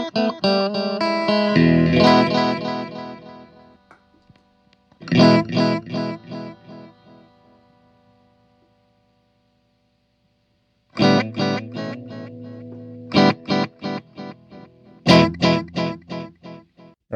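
Electric guitar played through a vintage Boss DD2 delay pedal, ringing chords and plucked notes whose repeats trail away, with a long quiet gap before further bursts of delayed playing.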